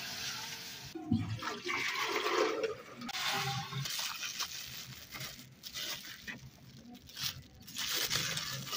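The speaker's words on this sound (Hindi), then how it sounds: "हुण पाया गया पानी।" Water poured into a large cooking pot (deg) for rice at a Pakistani family gathering, a steady splashing and sloshing pour that runs for several seconds, close and fairly loud with faint voices in the background.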